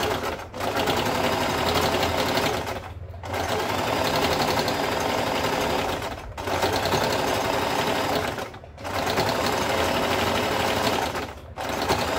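A sewing machine stitches a reused blouse piece in long, steady runs of rapid needle clatter, pausing briefly four times between bursts, close and loud with no talk.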